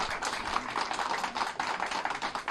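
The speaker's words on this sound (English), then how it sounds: "Let's give him a nice round of applause." An audience applauds an essay contest winner at a county auditor's award ceremony in Medina County, with brisk, continuous clapping close by that swells and dips for a couple of seconds.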